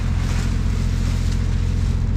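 A sailing boat motoring under engine power through strong wind and choppy water near a wind farm: a steady, loud low engine drone with a constant hum, overlaid by wind and water wash, with no talking.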